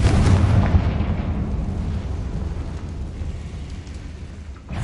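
A deep booming blast from a Bombarda or Confringo spell in Hogwarts Legacy rolls out loud and then fades into a long rumbling tail.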